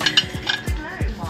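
Ceramic plates and pots clink and knock together in a quick series of sharp contacts while being handled in a shop, close and clear with faint background murmur.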